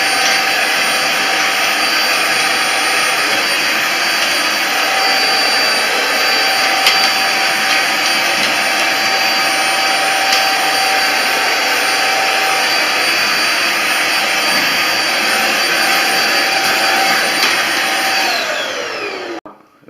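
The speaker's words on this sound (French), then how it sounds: "On a besoin d'un aspirateur avec un petit bec comme ça et un petit pinceau." A vacuum cleaner fitted with a small nozzle cleans dust from radiator elements, giving a loud, steady close whine that holds for nearly twenty seconds before cutting off at the end.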